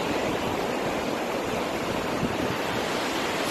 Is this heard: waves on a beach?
yes